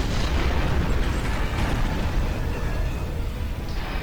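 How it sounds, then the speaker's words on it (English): Detonating charges in the Star Trek Online video game set off a loud, sustained, rumbling explosion, a dense roar that fills the whole stretch and fades only slightly toward the end. "Detonating charges"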